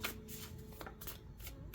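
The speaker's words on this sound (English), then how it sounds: "Let me shuffle this one more time." A deck of oracle cards being shuffled, with a steady riffling and rustling of card stock that is close, fairly quiet and continuous, with no talking.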